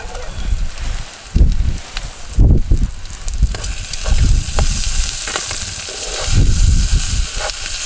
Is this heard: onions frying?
yes